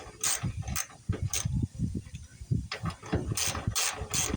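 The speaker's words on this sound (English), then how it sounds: "Now I'll go around and loosen up all these bolts." A hand ratchet clicks in quick, uneven bursts while loosening bolts on the fuel sending unit of a Ford F-350 Super Duty, the sharp pawl clicks close and loud with no talking.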